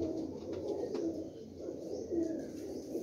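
Pigeons cooing, likely high-class show pigeons being shown off in Jhelum, with soft repeated coos and a few faint chirps over a steady low hum of the surroundings, fairly close and moderately loud.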